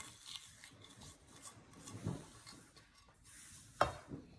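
A gond laddu mixture of crushed edible gum roasting in a pan is stirred, giving soft scraping and rubbing strokes with faint sizzling, quiet and close, with a couple of sharper scrapes.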